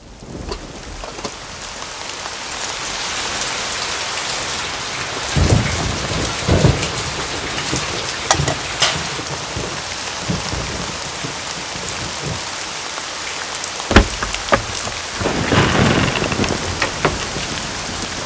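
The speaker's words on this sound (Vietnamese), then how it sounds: "sắp mưa rồi" Heavy rain pours down steadily with rolling thunder rumbling through it, several louder cracks and booms rising out of the constant hiss of the storm.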